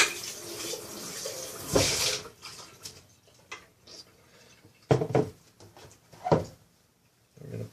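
Water runs from a kitchen tap while a nut-milk container is rinsed, a steady splashing flow broken by clunks and knocks of the container being handled, close and fairly soft.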